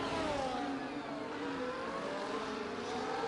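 Video game racing cars at Suzuka, a Mercedes passing a McLaren into Degner curve toward turn 9, with a steady high engine whine that slowly falls in pitch, moderately loud and continuous with no voices.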